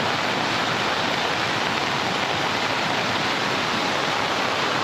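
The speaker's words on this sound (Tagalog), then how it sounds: "Tuloy-tuloy po ang ulan dito" Heavy, unbroken monsoon rain pours down in a steady, loud wash of hiss during southwest-monsoon flooding, with no voices.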